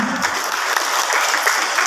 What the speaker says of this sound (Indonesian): terima kasih kepada kedua narasumber dan tepuk tangan berikutnya